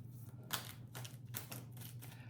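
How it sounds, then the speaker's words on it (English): Someone shuffles a Guardian Angel card deck, making a few soft, quick riffling bursts close by over a low steady hum. "The deck is a little bit hard to shuffle today."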